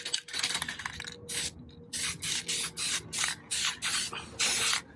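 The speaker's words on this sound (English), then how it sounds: "And now I'm going to hit it with the primer." Short bursts of aerosol primer spray onto a VW bus engine tin, close and crisp, in about ten separate hissing passes with brief gaps between them.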